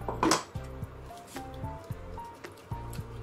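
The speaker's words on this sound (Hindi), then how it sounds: "अब इसको लगातार चलाते हुए हमें कुक करना है" Thick, wet squelching and soft scraping against a pan, repeated in slow strokes like a spoon stirring a dense garlic chutney, close by.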